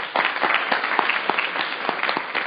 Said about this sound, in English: I'd actually like to ask you to provide some applause to our brave panelists